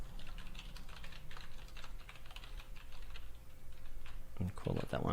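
Keystrokes on a computer keyboard as a title is typed into an HR software template, a steady run of light clicks with a louder burst of taps near the end.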